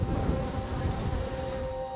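Honeybees from a Skagit Valley beekeeper's hives buzzing in summer, a steady, dense droning hum that fills the whole stretch without pause, close and moderately loud.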